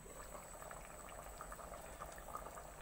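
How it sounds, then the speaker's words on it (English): A pot of pork curry starts to boil, giving a faint, steady bubbling and simmering wash with tiny pops throughout, close but quiet. "Now it's starting to boil."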